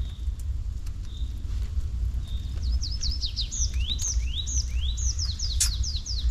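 Several birds chirp and trill in quick, repeated phrases, moderately close, over a steady low background rumble.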